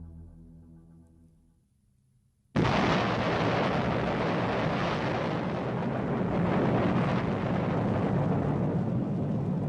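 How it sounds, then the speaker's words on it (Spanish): Out of near silence and a faint low hum, the first plutonium bomb test in the New Mexico desert erupts as one sudden, massive blast, followed by a loud sustained roar that rolls on without fading. "Es la primera explosión nuclear de la historia"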